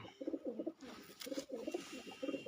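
Lal Cheena pigeons coo in repeated low, throaty bursts, a rolling series of calls broken by short pauses, heard fairly close amid light background noise.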